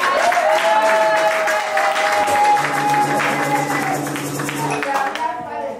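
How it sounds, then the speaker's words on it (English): Audience applause following a request to give a woman a big hand at a convention gathering, a steady, full wash of clapping lasting several seconds with tonal background sound running underneath. "please give her a big hand of applause"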